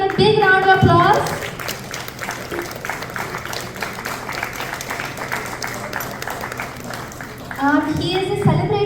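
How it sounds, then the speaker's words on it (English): Audience applause after a singer is introduced at an evening event, a dense steady patter of many hands that fills the middle of the stretch, with a voice speaking over music at the start and the end. "let us give them a big round of applause"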